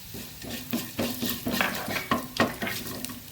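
Mustard seeds and coriander seeds fry in a pan with a soft background sizzle, broken by repeated sharp crackles and scraping stirs that land about twice a second, fairly close and steady, with no voices.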